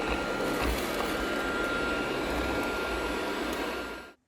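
A HOBOT Legee D7 robot vacuum runs in power suction mode with a steady, loud broadband roar. It holds constant for about four seconds, then cuts off.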